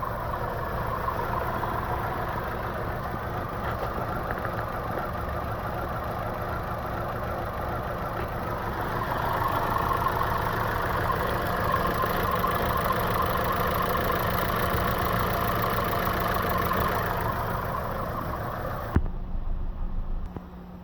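A 2011 Chevy Aveo 1.6L engine idles with a cylinder 1 and 2 misfire, giving a steady rough rumble with uneven knocking that swells slightly partway through and stops abruptly near the end.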